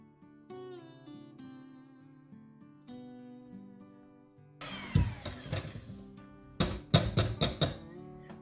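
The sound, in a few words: whipping candle wax with a mixer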